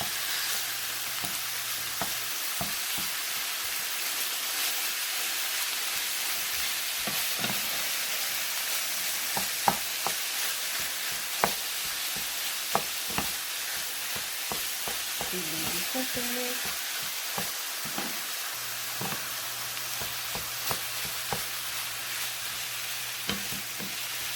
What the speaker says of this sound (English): So we want the onion and the ground beef cooked together.